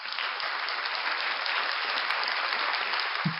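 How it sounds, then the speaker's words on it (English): A short round of applause from an audience at a casual music hangout event, dense steady clapping filling the whole stretch at an even level with no voices. "Let's give a short applause for that."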